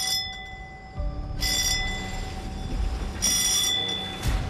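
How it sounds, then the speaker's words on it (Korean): Bell ringing aboard an anchovy fishing boat at sea, two bright metallic bursts over a steady engine drone and hum, fairly loud and close. "종이 울리면 잠깐의 휴식도 사라집니다"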